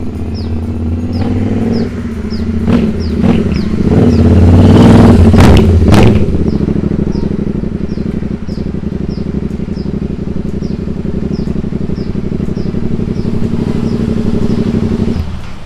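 A Royal Enfield RE650 twin motorcycle fitted with a short Python exhaust idles loudly nearby, then revs hard in several quick rising bursts before settling back into a steady, throbbing idle.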